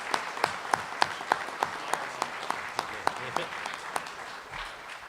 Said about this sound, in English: So I'd like to give a round of applause to Jess and his children for putting up with